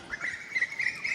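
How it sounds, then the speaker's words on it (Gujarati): An Asian koel calls in short, repeated whistled notes, fairly close and clear against quiet village background in Amreli during monsoon. "અનેરી કોયલ કેમ બોલે છે?"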